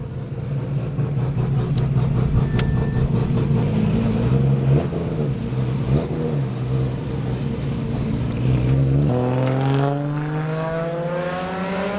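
Engine of an 800 hp Nissan R33 GTR heard from inside a car, a loud steady droning rumble that holds and then climbs in pitch as the revs rise toward the end, with no talking.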